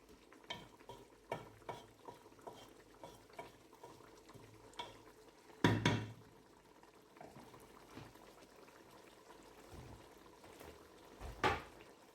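Chicken curry simmers and bubbles quietly in a pot while a spoon stirs it in soft scraping strokes, followed by a louder clatter as a lid is set on, with another knock near the end.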